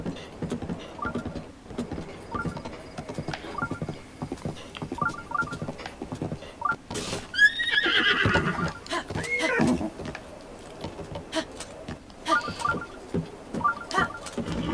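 A horse neighing in Zelda: Breath of the Wild, a whinny rising in the middle over soft game sounds and small clicking effects, fairly quiet overall.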